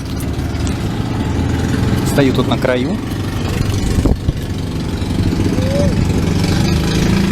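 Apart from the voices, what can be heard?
boat engines idling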